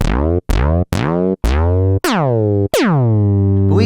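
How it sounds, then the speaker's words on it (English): Six notes from an Arturia Pigments synth in quick succession, each starting with a sharp envelope-driven pitch drop that sweeps down and settles, the last one held longer. "so that could be like putting the envelope on the pitch"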